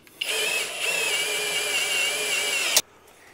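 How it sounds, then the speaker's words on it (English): Power drill driving a self-tapping tap during a T-bucket hot rod build: a loud, steady high whine lasting over two seconds, ending abruptly with a short click. "Yeah, that's my secret to getting it started right there. Power drill."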